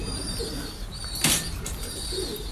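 A pigeon in a loft briefly flaps its wings in one sharp burst amid soft background cooing and faint bird calls, close and fairly quiet.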